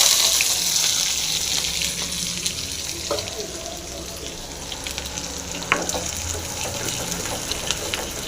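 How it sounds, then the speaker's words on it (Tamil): Shallots fry in hot oil with mustard seeds that have already popped, giving a steady, close sizzle throughout with a few faint scrapes and clicks from stirring. "சாம்பார் வெங்காயம் போட்டுடலாம் நல்லா ஃப்ரை ஆகட்டும்"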